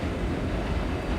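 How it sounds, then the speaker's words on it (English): An R38 C subway train rolls past, a dense, loud rumble and rattle of rail cars filling the whole brief moment without a break. "R38 C train."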